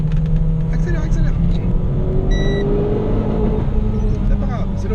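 Renault Clio 4 RS engine droning steadily at high revs, held against the rev limiter during a track session on a circuit, with a car cabin rumble underneath.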